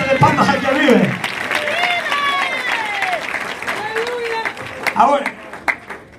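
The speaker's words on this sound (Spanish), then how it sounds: "Denle ofrenda de palmas al que vive, a su nombre." A church congregation claps as an offering of praise, a burst of clapping under a preacher's raised voice, with singing or speaking continuing over a noisy room.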